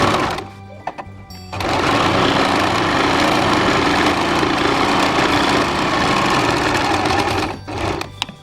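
An Usha Janome sewing machine stitches in a loud, fast, continuous run lasting about six seconds, preceded by a few short start-up bursts and ending as it slows to a stop.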